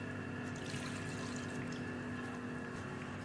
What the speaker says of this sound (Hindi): इसमें वाटर ऐड करेंगे 100 ml